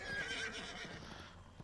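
A horse neighs and whinnies in the Sorrowdusk video game, with hoof clip-clops beneath, moderately loud and close, no voices.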